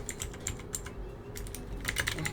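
Rapid typing on a computer keyboard during a Pet Simulator 99 gaming session, a steady run of close, crisp key clicks with a brief faster burst near the end, no voices.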